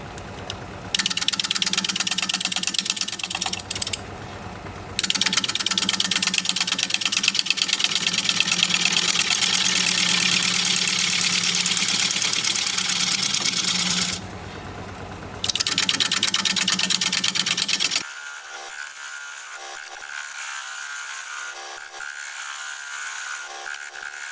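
Wood lathe spinning a bowl blank at about 530 RPM, with a steady loud mechanical hum and vibration that runs continuously, briefly dipping twice, then dropping to a quieter whir as it slows near the end.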